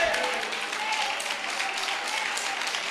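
A church congregation claps hands in worship, producing dense, sustained applause at steady volume while a voice talks over it.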